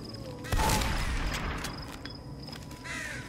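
A shotgun blast in the video game Them and Us, one loud booming shot near the start followed by decaying rumble, with quieter game noises and a faint tonal sound afterward.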